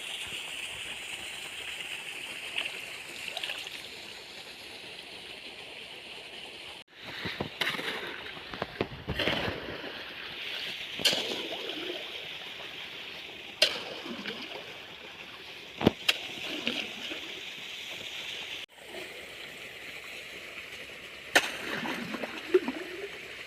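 Irrigation water flows and gurgles steadily along a field channel into a millet field, with intermittent splashes and sloshing, close by and fairly quiet.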